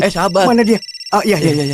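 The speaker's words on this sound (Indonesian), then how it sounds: "Ponselnya berdering." A mobile phone briefly rings with a pulsing electronic tone between lines of dubbed dialogue in a 1991 gambling action film, with voices talking right before and after.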